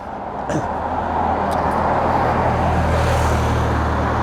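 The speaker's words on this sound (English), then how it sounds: "There comes more cars. Very noisy along here." Cars pass along a busy main road near Calshot on the English coast, with sports cars among them, a steady loud roar of traffic building after the first half-second and holding with no voices.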